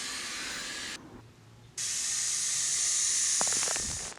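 Steady hiss of water spraying onto newly planted garlic in a garden bed, cutting out briefly partway through before resuming, with a few light taps near the end.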